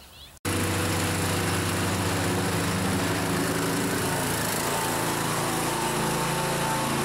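A lawn mower mowing a yard starts suddenly after a brief quiet moment, then holds a loud, steady engine drone close by without letting up.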